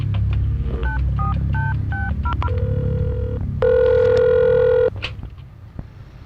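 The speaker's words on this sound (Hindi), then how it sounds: "कोई कमिश्नर या डीजीपी को फोन लगाओ जल्दी।" A telephone being dialed: a run of quick keypad tones, a short pause, more tones, then a long steady ring tone, loud and close, with a low hum of a scene underneath.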